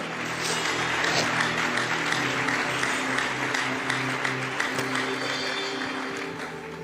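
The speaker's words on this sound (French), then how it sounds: "Si on peut acclamer très fort pour le Seigneur." A church congregation applauds and cheers for the Lord, a steady dense wave of clapping sustained for several seconds, full and close throughout.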